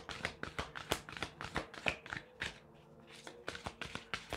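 A deck of tarot cards being shuffled by hand, soft close riffling and flicking in quick repeated bursts with a brief pause midway, fairly quiet.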